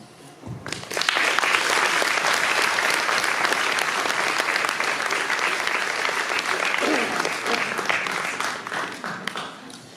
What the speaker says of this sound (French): Après cette troupe qui a été extraordinaire, j'aimerais bien qu'on les applaudisse